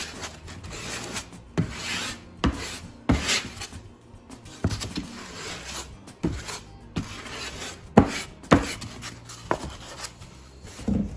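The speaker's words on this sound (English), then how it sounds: "I'm gonna spread it out with a spackle knife." A spackle knife spreads caulk across foam, giving repeated scraping and rubbing strokes in irregular bursts with short pauses between passes. The strokes are close and clear, with no talking.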